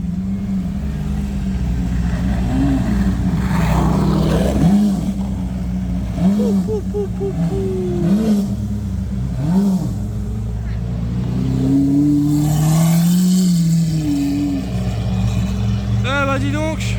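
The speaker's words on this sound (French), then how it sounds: "le boucan qu'elle fait la SV derrière" A Lamborghini Aventador SV roars past in a convoy of supercars in Cannes, its engine revving loudly and rising and falling in pitch, while people talk excitedly over the noise.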